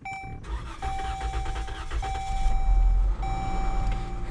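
A Dodge car engine cranks and catches after its fuel is primed, then roars up loudly alongside repeated steady electronic warning beeps.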